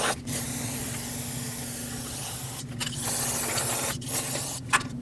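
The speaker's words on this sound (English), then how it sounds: "just rinse it down with some brake parts cleaner" Brake parts cleaner sprays in a steady hiss onto the rear wheel hub of a 2006-2015 Lexus IS250 during a bearing replacement, continuous for stretches with brief pauses between bursts, close and fairly loud.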